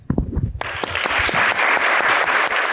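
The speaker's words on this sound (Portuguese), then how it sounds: "Os participantes da plateia aplaudem os convidados enquanto deixam o palco" An audience applauds guests as they leave the stage after a talk show interview, steady clapping from a crowd that starts abruptly after a brief moment of voices and continues evenly.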